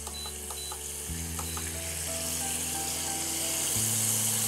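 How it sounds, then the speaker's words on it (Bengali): Food fries in oil in a pan with a bright, continuous sizzle and occasional stirring knocks, while faint electronic beeping tones sound in the background. "এবার এটাকে একটুখানি হালকা করে ফ্রাই করে দেবো।"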